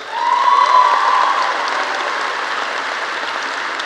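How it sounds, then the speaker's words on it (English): High school graduation crowd applauding in a large venue, a broad, diffuse wash of clapping heard from a distance with a faint whistle near the start, steady and even throughout. "Let's give them a round of applause."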